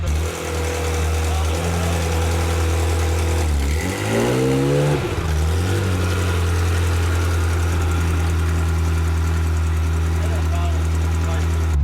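Ferrari F355 engine running steadily as the car is backed out, a loud, close, deep idle with a brief rev and dip in the middle, while people talk over it.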